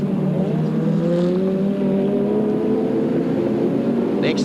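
A 1992 Benson & Hedges BMW touring car, number 25, runs down the side of Corporate Hill at Eastern Creek, a steady engine drone under race commentary.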